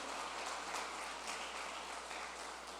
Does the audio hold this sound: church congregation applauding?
yes